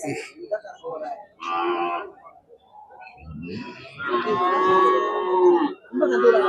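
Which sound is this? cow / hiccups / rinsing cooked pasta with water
cow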